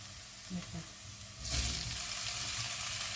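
Sweet honeycomb mushrooms dropped into hot oil with fried garlic for an oyster-sauce stir-fry burst into a loud, steady sizzle halfway through, after a few soft clinks of the pan.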